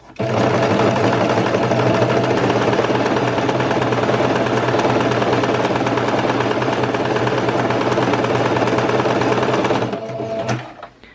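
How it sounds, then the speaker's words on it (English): A sewing machine runs a shortened zigzag stitch, a loud, continuous rapid mechanical whirring and clatter sustained for about nine seconds before slowing and stopping. "I'm going to make the stitch shorter"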